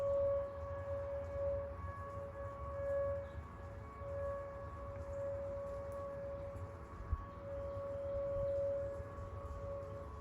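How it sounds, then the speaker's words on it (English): A civil defense siren sounds during a routine monthly test, a steady far-off wail holding a pitch over low rumbling background noise, continuous for the whole stretch with no talk. "Siren's going off. I think they're just testing it."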